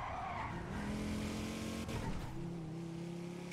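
In the GTA NoPixel video game, a car swerves with its engine running and its tires skidding in a sustained squeal, loud and close throughout.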